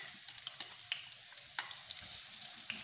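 Sliced onion frying in about a tablespoon of oil in a kadai gives off a faint, steady scatter of soft crackles and pops, close by with no voices.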